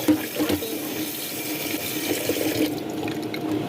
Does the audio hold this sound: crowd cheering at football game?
no